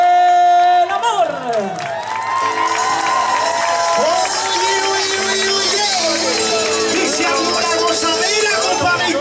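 A crowd at an outdoor charity show in a plaza in Melipilla, Chile, cheers, whoops and applauds performers coming on stage, a loud, dense wash of voices and clapping with music tones running underneath.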